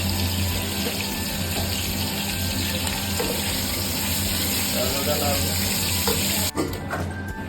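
Cumin seeds fry in oil for a tempering, giving a dense, loud, continuous sizzle up close with faint scraping, ending in a brief clatter near the end.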